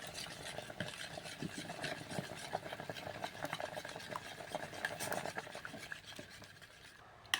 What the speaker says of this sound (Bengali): এই পেস্ট আমি এই সোপেসের মধ্যে দিয়ে দিচ্ছি দিয়ে গুলতে থাকবো একটু একটু দেবো আর গুলতে থাকবো